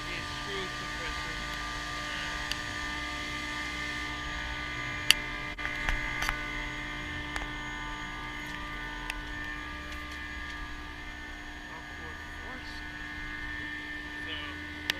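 An industrial screw compressor, only half of it running, gives off a steady, even mechanical hum and drone with faint ticks and clicks on top, heard close and continuous while people talk over it.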